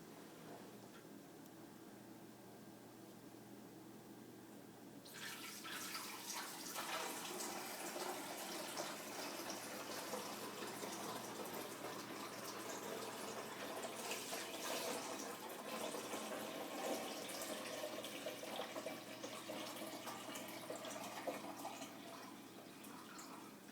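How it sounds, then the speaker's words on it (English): Water is poured into a coffee maker's reservoir, a steady splashing trickle starting suddenly after a few quiet seconds and continuing evenly at close range, fairly faint, with no talking. "we have to pour the water into the reservoir"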